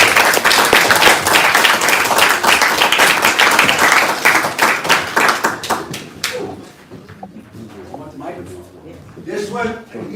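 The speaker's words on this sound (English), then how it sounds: "give a round of applause." A round of applause greets Roger Waters at a New York stand-up event in support of Assange, dense clapping for about six seconds before fading into scattered claps and voices near the mic.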